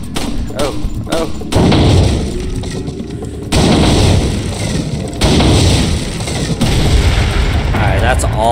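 Pistol fire at the shooting range in Resident Evil 4 comes as a handful of loud, close, separated shots with thudding impacts, while a person talks between them.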